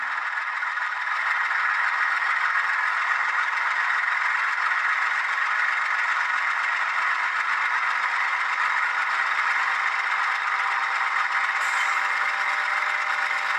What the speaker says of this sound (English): this is basically to simulate the engine under a heavy load. So you hear it spooling up.